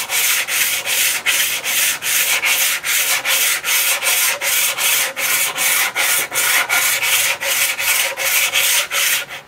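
A vintage saw blade is stroked along a wet, cheap Harbor Freight composite sharpening stone, giving a rhythmic series of rasping scrapes, about two per second, close and loud with brief gaps between strokes.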